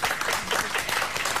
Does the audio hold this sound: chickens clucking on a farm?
no